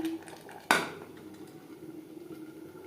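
A lid goes onto a pot of aloo mutton curry with a single sharp metallic clank near the start, then a faint simmering hiss continues with no talking.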